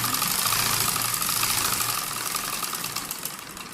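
A sewing machine runs a continuous stitch securing an elastic waistband on bell-bottom trousers, a steady rapid mechanical whir and clatter, close and even, easing slightly toward the end.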